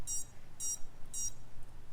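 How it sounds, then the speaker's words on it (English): A sub-250g Dollyfly drone's buzzer beeps three times in a regular rhythm, short sharp electronic tones close by, with no voices. "that's my buzzer"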